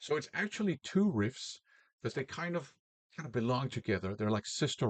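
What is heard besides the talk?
No distinct noise like a dog, phone or traffic.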